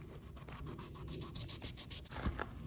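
A Scotch-Brite pad rubs over damaged clear coat on the exterior door trim of a Honda CR-V, giving a quiet, steady scratchy scrubbing in quick back-and-forth strokes close by.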